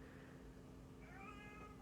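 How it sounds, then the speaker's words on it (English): A cat trapped upstairs in a house meows once, a faint distant wavering cry rising over a steady low indoor hum with no talking. "Can you hear my cat meowing in the background?"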